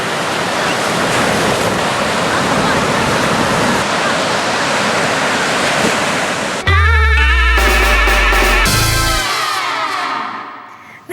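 Loud surf and breaking ocean waves at a Perth beach roar steadily for several seconds with heavy wind rumble, then cut abruptly into other unrelated sounds near the end.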